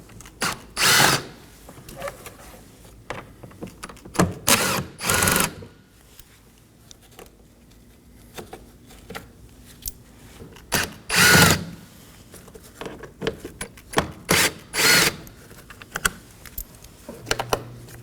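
Power drill fitted with a T30 bit backing out cowl screws on a 2014-2023 Ford Transit Connect 2.5L, loud close whirring bursts of a second or two, repeated several times with clicks and handling noise between.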